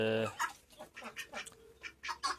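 Hens cluck in a short series of soft, uneven calls close by, after a brief louder squawk at the start.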